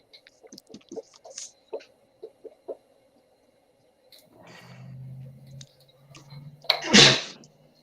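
Several faint clicks and taps lead into a low hum, then a single loud, sharp sneeze bursts out near the end.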